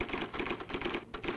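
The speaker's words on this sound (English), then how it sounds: "The IBM Selectric, a typewriter so different, only the alphabet remains the same." An IBM Selectric electric typewriter types in rapid, evenly spaced keystrokes, a crisp mechanical clatter heard close and alone.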